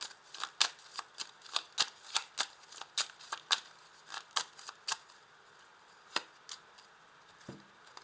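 Tarot cards being shuffled and laid out on a table, a series of sharp, close card snaps and flicks in an uneven rhythm, thinning to a few isolated slaps near the end.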